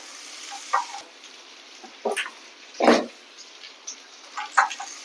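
Roasted gram sautéing in a pan for chutney, heard as a few short, soft scraping and sizzling bursts from stirring, spaced irregularly over a quiet background.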